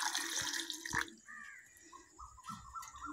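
Water pours and splashes into a cooking pot holding chopped tomatoes and tamarind for tomato rasam, a short burst near at hand that thins into lighter drips and trickles.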